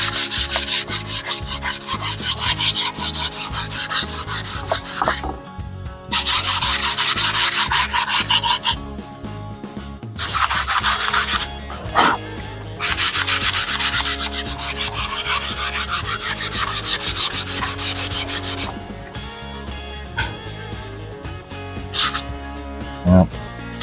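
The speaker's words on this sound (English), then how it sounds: "You don't want to sand too hard or you'll take the whole letter off," Sandpaper rubs lightly over painted wooden lettering in long, close rasping strokes, repeated in bursts with short pauses between passes.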